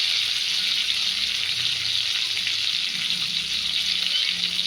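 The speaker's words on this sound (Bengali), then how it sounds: "বেশ ভালো করে কড়া কড়া করে ভাজা করবো," Fish frying until crisp in a pan, a loud, steady close sizzle with a constant hiss throughout and no talk.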